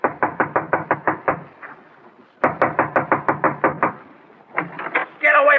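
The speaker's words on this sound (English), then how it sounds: "I'll knock on the door." Knocking on an apartment door as a radio drama sound effect: two bursts of rapid, crisp knocks, about eight raps each, separated by a pause, close and loud, followed by a few softer knocks and a brief noise.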